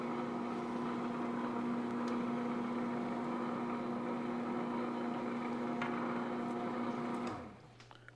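A 3/4 horsepower sausage stuffing machine runs steadily while making bacon and cheese boerewors, a constant motor hum and whine with faint clicks, then it winds down and stops near the end. No one speaks.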